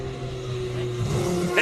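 Steady engine drone from a Porsche GT3 Cup race car at a classic car event in Cape Town, a sustained mid-level hum that rises slightly toward the end, with no speech.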